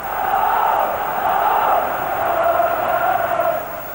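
Tens of thousands of Rangers supporters singing together in a packed football stadium, a broad, steady roar of massed voices that swells and holds loudly throughout.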